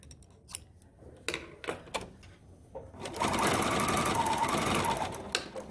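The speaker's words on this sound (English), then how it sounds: "So I picked up my needles and move off and then sew a little bit. Get rid of this tail." A serger stitches off past the fabric edge in a steady, loud mechanical whir lasting a couple of seconds, after scattered clicks and handling taps; the thread tail is then trimmed.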